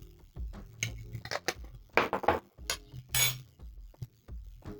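Close clinks and scrapes of a utensil against a pot as potatoes for viazi karai are stirred, with a few soft knocks.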